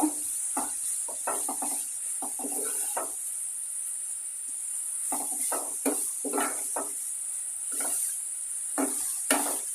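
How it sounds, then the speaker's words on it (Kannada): Grated carrots fry in a pan, with a steady high sizzle under irregular scraping and stirring bursts from a spoon against the pan. "ಉರಿತಾ ಉರಿತಾ ಉರಿತಾ ಲೈಟ್ ಕಲರ್ ಬರುತ್ತೆ ಕ್ಯಾರೆಟು ಹಾಗೆ ಸಾಫ್ಟ್ ಆಗುತ್ತೆ ಅಲ್ಲಿವರೆಗೂ ಉರಿಬೇಕು"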